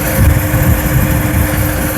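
A car alternator converted into an electric bicycle motor, running on 48 volts while the rider holds the throttle at about 37 km/h: a steady, close, high-pitched electric whine with a constant low hum and mechanical rumble underneath.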